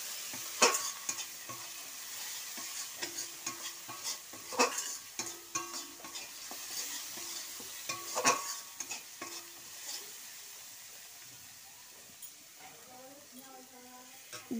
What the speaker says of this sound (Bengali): জিরে গুঁড়োটা দিয়ে একটু নাড়াচাড়া করে নেব।